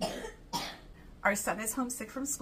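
A child at home sick from school coughs in a couple of harsh bursts in the background at the start, then an adult voice talks in the foreground.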